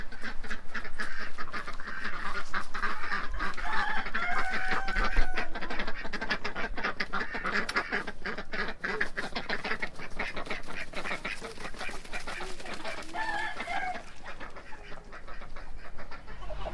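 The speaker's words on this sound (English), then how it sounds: "let out the ducks, and we're gonna let out some chickens into the pasture." Ducks quack steadily alongside clucking chickens as they are let out to pasture, a busy flock of farm birds calling continuously at close range with no talking.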